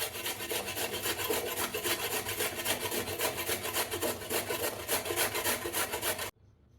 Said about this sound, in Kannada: ತುರ್ಕೊಳ್ಳೋಣ.